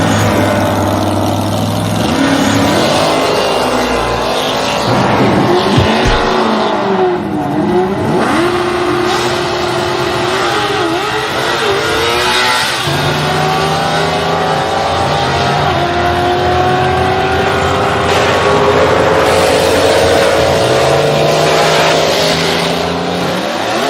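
Drag racing cars roaring loudly and without pause, engines revving and rising in pitch as they accelerate, with layered overlapping engine notes and the odd sharp crackle.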